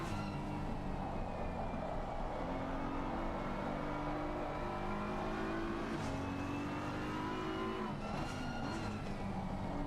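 A GT3 race car in a racing video game at the Barcelona circuit, engine droning loudly then dropping through gears under braking with falling revs, other cars audible close by, no speech.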